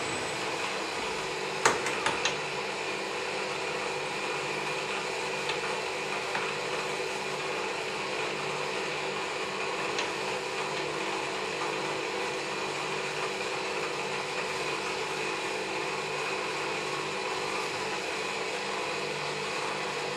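A metalworking machine with a dividing head taking a very light cut, a steady, even mechanical whir and hum that holds throughout, with a few small clicks early on and no talk.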